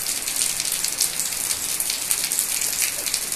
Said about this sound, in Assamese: এয়া চাওক, আকৌ বৰষুণ দিলে